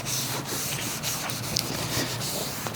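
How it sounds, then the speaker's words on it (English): A car headlight is scrubbed clean with cleaner, a close, steady rubbing and swishing that continues throughout with small bumps of pressure. "what you're trying to feel for while you're scrubbing it is it feels a little smoother"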